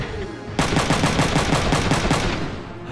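Rapid burst of video game gunfire in Front Mission 3, a steady string of loud, evenly spaced shots lasting about two and a half seconds, starting abruptly after a quiet moment.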